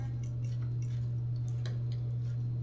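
Poke bowl ingredients with pineapple being stirred together in a bowl, soft scraping and light clinks of a utensil under a steady low electrical hum.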